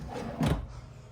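A big pots-and-pans drawer beside a 17-inch oven in the kitchen of a 2026 Sprinter 3800FLB fifth-wheel RV slides and bumps shut once, a short, close, muffled thud with a soft rolling swish.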